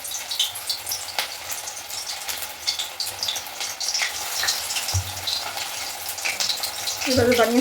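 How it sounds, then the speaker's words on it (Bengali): Lote (Bombay duck) fish pakoras fry in hot oil with a steady, dense sizzle and crackle throughout, and a voice briefly rises over the frying near the end. "এবার তেলে ছেড়ে দেবো,"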